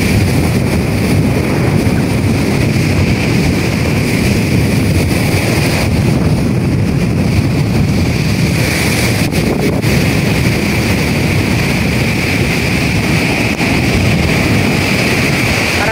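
Rough sea and strong wind in the aftermath of Typhoon Uwan make a loud, unbroken roar of surf and gusting air, with heavy wind buffeting on the microphone throughout.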